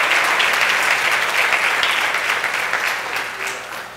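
A church congregation at a Sunday morning service claps in unison, a broad, loud wash of applause that holds steady and then slowly fades toward the end.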